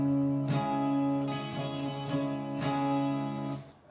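An acoustic guitar is strummed slowly in a song's strumming pattern, with a handful of separate down and up strums ringing out clearly and close, with no talking over them.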